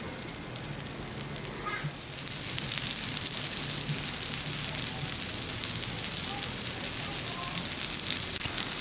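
Green tomatoes fry on a Blackstone griddle, a steady wash of sizzling crackle that swells louder after a couple of seconds and continues evenly without speech.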